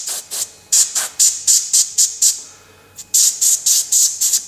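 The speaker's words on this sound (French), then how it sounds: "je vais mettre un petit coup de spray d'air sec dans la lentille, histoire de nettoyer" Compressed air duster fires quick, sharp hissing bursts onto a phone camera lens, about a dozen close, loud puffs in two rapid clusters separated by a brief pause.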